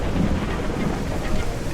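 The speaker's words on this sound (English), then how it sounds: "this thunderstorm just suddenly came out of nowhere" Thunderstorm with rain in the Untamed game demo: a steady, dense wash of rainfall and low rumbling thunder, loud and continuous throughout, with no talking.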